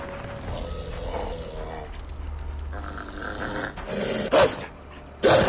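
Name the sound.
dogs growling in the video game Assassin's Creed 3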